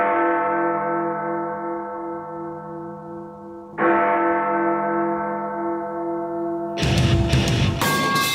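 Creepy bells from unused Call of Duty zombies sound files ring out in two long, resonant strikes that slowly decay, followed by a harsher, noisier burst of tolling near the end.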